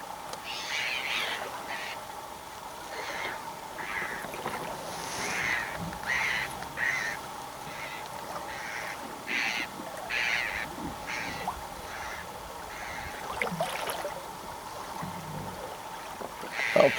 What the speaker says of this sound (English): There's a gull laughing at me.